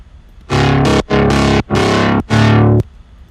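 Midtempo bass synth patch built in Serum with heavy distortion, four loud, gritty sustained blasts separated by short gaps, alone and up close.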